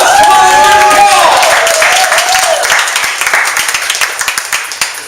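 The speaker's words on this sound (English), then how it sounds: "To Paul, please round of applause!" A crowd claps steadily in sustained applause, loud at first and thinning toward the end, with a voice calling out briefly at the start.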